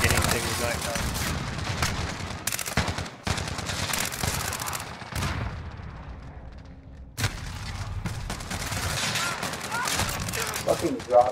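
Video game gunfire rings out in rapid repeated bursts, loud and dense, with a brief pause midway, while a player talks over parts of it.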